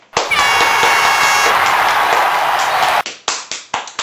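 A loud blaring horn-like burst gives way to a handful of sharp, evenly spaced claps, about five, close and distinct near the end.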